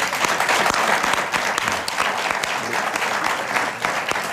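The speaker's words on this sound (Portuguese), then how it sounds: "Mas salve palmas para o nosso Betão." Studio audience applause on a Portuguese television talk show, a dense, steady wash of clapping from a full crowd lasting the whole stretch without letup.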